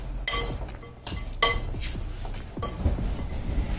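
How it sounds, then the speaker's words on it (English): Snack ingredients are tossed and mixed in a bowl, giving repeated close clinks and clatters of utensil against dish in an uneven rhythm. "So now all you gotta do is you mix it up."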